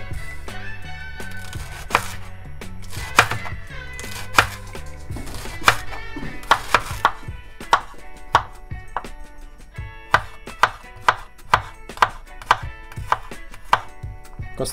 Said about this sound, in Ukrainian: І зараз нарізаємо цибулю. В нас цибуля порей, цибуля рібчаста.